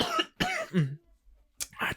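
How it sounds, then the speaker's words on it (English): A couple of harsh, hacking coughs close to the mic, separated by a short quiet pause, followed by another burst. "That cough got me fucking horrible, man."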